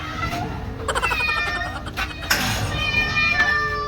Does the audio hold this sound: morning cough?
no